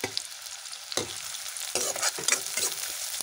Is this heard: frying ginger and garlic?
yes